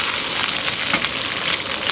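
Hot oil frying hard in a pot in a rural kitchen while a tofu and small-fish stew is being cooked, a loud, continuous close-up sizzle and crackle with no one talking.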